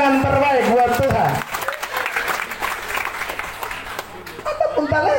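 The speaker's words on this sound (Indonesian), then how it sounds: "Beri tepuk tangan terbaik buat Tuhan." A church revival congregation in Amarasi breaks into applause, loud clapping under a preacher's voice that fades after a second, then a steady crowd patter continues before speech returns at the end.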